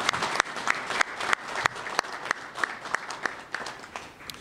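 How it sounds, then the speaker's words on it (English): A crowd at a Buffalo public event applauds, several seconds of brisk, even clapping with a few louder claps standing out. "Let's give them a round of applause"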